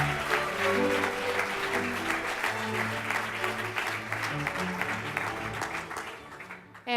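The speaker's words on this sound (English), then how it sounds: "Let's give her a big round of applause for that." Banquet audience applauding at an awards induction dinner, a dense sustained wash of clapping that holds steady for several seconds before cutting off abruptly at the end.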